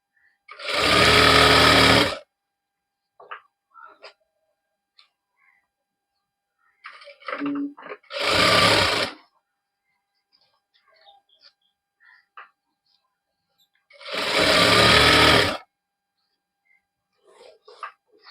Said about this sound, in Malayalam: എന്നിട്ട് ബാക്കി വരുന്ന ഭാഗം സ്റ്റിച്ച് ചെയ്ത് കൊടുക്കുക